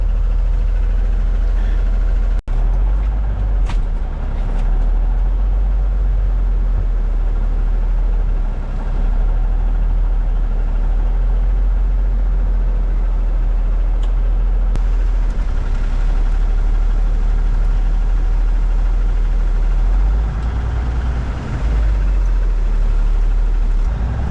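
A Kenworth K100 cabover truck idles steadily in -25 degree cold, a loud, continuous low diesel rumble right up close with a few faint clicks and knocks on top.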